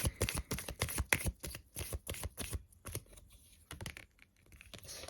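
Tarot cards are shuffled and drawn in quick, crisp riffling bursts with papery flicks and slaps, close up, pausing briefly before a few more snaps near the end.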